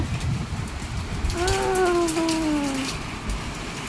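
Steady rain falls during the first rainfall of the season in Pune, a continuous outdoor patter with no talk, while a brief tonal whine passes through the middle.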